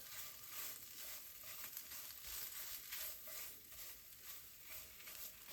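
Tomato paste cooking in a pan over medium heat gives off a soft, steady sizzle with faint popping, heard alone and without talk.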